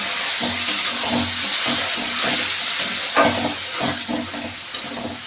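Dried red chillies and chopped tender coriander stems sizzle steadily in a hot pan for a Bankura-style cabbage jhal, a close, continuous frying hiss with soft rhythmic stirring scrapes.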